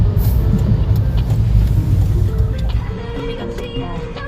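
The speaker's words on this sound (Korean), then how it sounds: "친구가 운전하는 차 처음 타봐요" Steady low road rumble and engine hum from inside a car driven by a novice driver, with some faint higher rattles; no talking heard.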